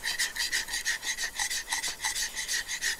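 A plane iron from a WoodRiver 5 1/2 jack plane is rubbed back and forth on a whetstone, giving a steady rhythmic rasping of quick close strokes with no talk.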